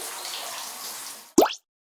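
Water splashing during the filming of a shower scene: a soft running-water wash, then a single short, loud splash that stops abruptly into silence.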